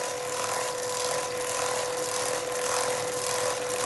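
A 5.1 mm drill spins in a machine for the Webster engine build, a steady high whine with hissing cutting noise, close and constant throughout.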